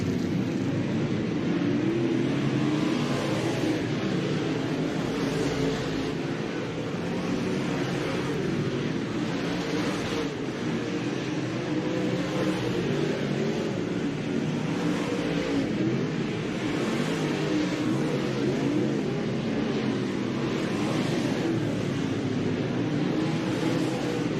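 Modified dirt track race cars run qualifying hot laps at Florence Speedway, several cars on track at once, their engines a continuous loud roar with rising and falling revs over the full length, no talk.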